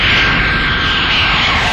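The jet engine of an F-94C Starfire roars loud and continuous after takeoff from a U.S. Air Force base near Cape Cod, Massachusetts, a broad rushing whine filling the whole clip.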